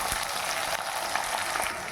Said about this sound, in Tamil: வெங்காயமும் நல்லா வதக்கி விட்டுடுங்க.